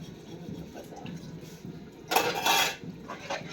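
Dishes and metal pots being washed, a short burst of clattering and scraping rising out of quiet background clinks.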